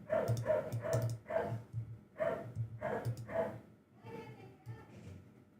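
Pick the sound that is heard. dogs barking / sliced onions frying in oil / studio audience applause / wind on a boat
dogs barking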